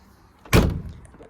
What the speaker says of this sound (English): the door shuts lovely